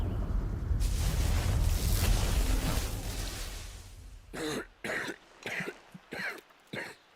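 A character in the video game Final Fantasy XVI coughs up blood, giving five harsh, close coughs in an uneven series that follows a rumbling, blast-like noise.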